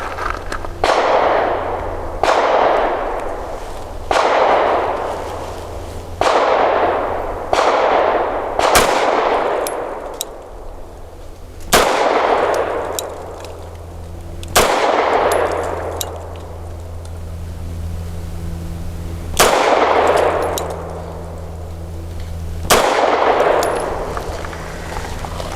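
A Tisas Tank Commander 9mm 1911 pistol fires 115-grain jacketed hollow point match ammunition at a target, giving about a dozen sharp, loud cracks at uneven intervals, each followed by a short decaying echo over a low steady hum.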